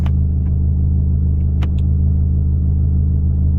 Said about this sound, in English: I live on a high, kind of like a busy state road here, so let these cars pass.